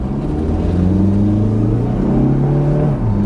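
A turbocharged Chrysler PT Cruiser Turbo Convertible Touring with 89K miles accelerates: a loud, close engine drone climbs steadily in pitch, then dips briefly as it shifts gear near the end.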